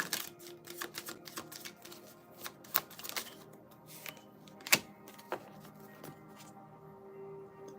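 Tarot cards being shuffled and drawn by hand, a run of quick papery riffles and sharp flicks, close and fairly quiet, with brief soft speech.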